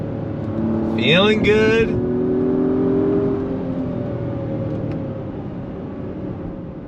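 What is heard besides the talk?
Acura MDX Type S engine revving through downshifts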